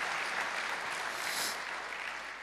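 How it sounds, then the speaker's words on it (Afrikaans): Steady applause from a church congregation, a sustained even wash of clapping with no voices over it, fairly close and moderately loud. "kan ons net vir hulle hande klap gee"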